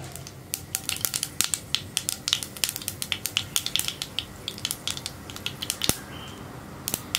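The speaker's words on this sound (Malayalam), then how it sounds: "കടുകൊന്ന് പൊട്ടി വരട്ടെ" Mustard seeds pop and crackle in hot oil for a green peas curry, sharp irregular bursts over a faint sizzle, close by with no voices.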